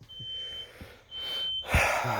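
A high, steady smoke alarm tone sounds twice in long beeps over a low rumble inside a 4106 bus burning oil, followed by a burst of hissy noise.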